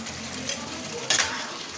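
Spiced masala with boiled potatoes frying in an open pan, a steady sizzle with a brief louder burst of stirring near the end.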